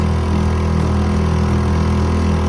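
An outboard motor runs on an inflatable rib on the Cycladic Islands, Greece, a steady close engine drone with a buzzing, even rhythm and no voices.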